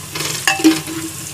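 Whole garam masala and bay leaf frying in a pan while being stirred, a short close sizzle with a couple of spoon clinks and scrapes against the metal.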